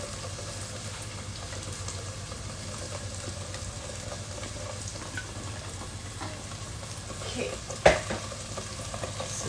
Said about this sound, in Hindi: Now you can see it bubbling away.